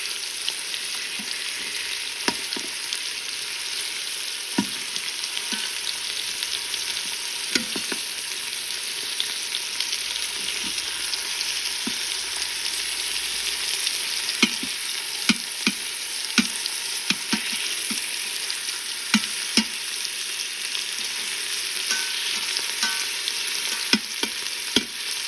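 Pork carnitas sear and sizzle in an Instant Pot, a steady hiss of frying fat with scattered pops and occasional clicks of stirring, close and continuous without voices.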